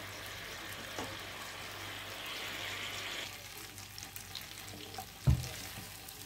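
Kebab pieces frying in a pot on a stovetop burner, browning until golden, give a soft, steady sizzle with faint bubbling, rising briefly at one point and ending with a sharp clink near the end.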